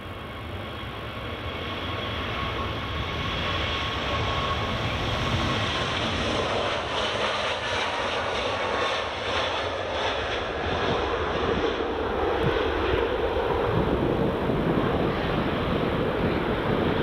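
A Turkish Airlines jet takes off at Edinburgh Airport, its engines a steady distant roar that builds slightly and holds throughout, with no voices.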